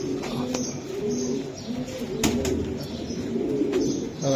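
Racing pigeons coo at close range in soft, repeated low bursts, with a few brief sharper sounds between them.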